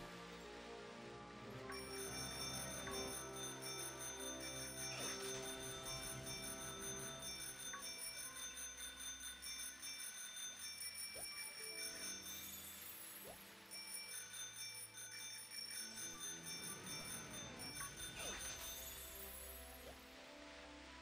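A bell in Pokémon Sword/Shield rings over and over, its bright metallic tones repeating steadily for around twenty seconds, with no speech over the chiming.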